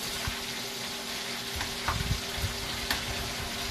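Pork sizzling and frying in a pan, a steady close crackle with occasional stirring clatter, no voices.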